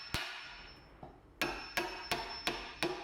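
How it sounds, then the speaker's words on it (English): Hammer striking a chisel to cut a latch cavity in a door, six sharp ringing knocks, the first alone and then five in a steady rhythm, close and clear without speech. "The latch cavity will need some chisel work to make the mechanism fit inside."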